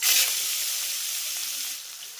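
Steady hissing sizzle of chopped onions frying in hot oil, loudest at the start and then settling into a constant crackle.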